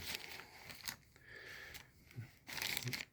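A plastic bag of assorted small parts and buttons at a flea market crinkles in bursts as it is handled, with rustling pulses loud and close.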